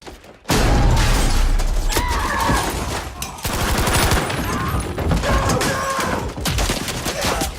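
Battlefield V reveal trailer battle scene with a Thompson M1A1 submachine gun amid dense, continuous gunfire and booms, loud and layered with overlapping shots throughout, no talk.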